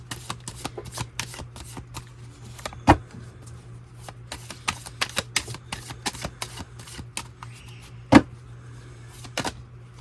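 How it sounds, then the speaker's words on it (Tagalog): A deck of cards is shuffled close by, quick papery riffles and sharp snaps in uneven bursts over a steady low hum, no talking. "Balasahin muna po natin mabuti."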